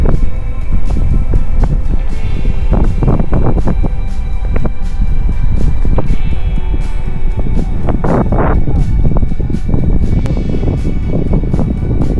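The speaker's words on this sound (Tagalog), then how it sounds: "Super ganda, mahangin, sobrang mahangin lang dito." Strong wind on a hiking trail from Violet Hill to Repulse Bay, Hong Kong, buffets the microphone in heavy rumbling gusts, loud and constant, with bursts of rushing air rising and falling throughout.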